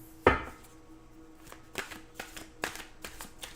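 Tarot cards are shuffled close by: a sharp slap at the start, then several quick riffling and tapping bursts at irregular intervals.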